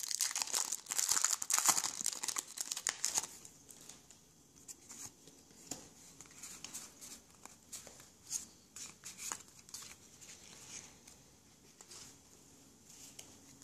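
Foil wrappers of Pokémon card booster packs crinkle and tear up close, loud bursts of crumpling at first, then quieter rustles and scattered handling sounds.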